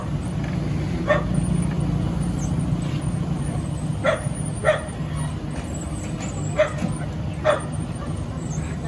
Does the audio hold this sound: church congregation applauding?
no